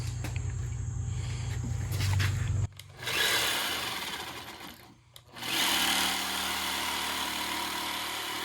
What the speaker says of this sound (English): Now we're going to use the jigsaw.